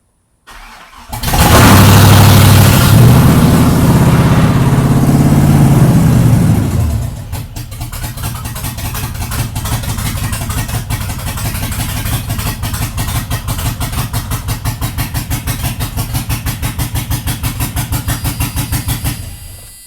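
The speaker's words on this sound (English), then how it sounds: "I'm gonna crank it up, man. Let y'all hear it." A Chevrolet C10 with an LS engine swap cranks and fires with no exhaust fitted, first a loud sustained roar for several seconds, then settling into a steady, rapidly pulsing idle that continues loudly to the end.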